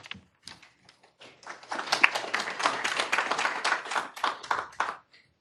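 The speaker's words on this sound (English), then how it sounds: "It's okay to clap" Scattered applause from a seated audience after a speaker is introduced at a hospital board of associates meeting, beginning as a few isolated claps, then swelling into a fuller round of clapping before tapering off.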